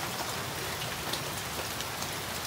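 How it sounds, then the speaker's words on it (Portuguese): Rain falling outdoors at a rifle shooting spot, a faint, steady hiss of drops pattering on surfaces, continuous and even with no other sounds. "A chuva aumentou"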